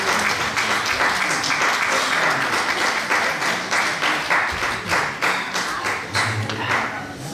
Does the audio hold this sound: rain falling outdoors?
no